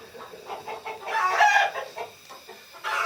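Chickens in a farm building clucking and chattering, several birds at once with a louder squawking burst in the middle, close and clear over a quiet background.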